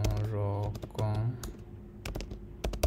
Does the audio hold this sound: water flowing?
no